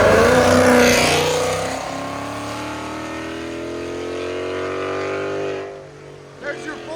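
A 2021 Ford Mustang GT with a 5.0L V8 and a Valvetronic Designs exhaust makes a loud, roaring pull, revving up hard and then fading off, with a brief burble at the end.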